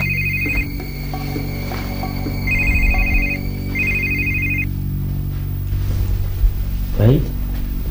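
A telephone rings in repeated electronic bursts, three clear rings in the first half against a background of music and ambient sound, followed by a voice.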